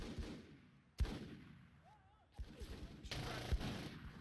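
Gunfire in Full Spectrum Warrior, a few sharp separate shots followed by a short flurry near the end, moderately faint against quiet background.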